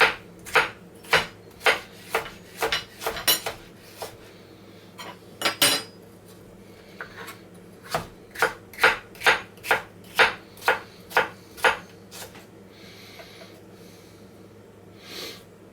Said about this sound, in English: Just take and make nice thin slices.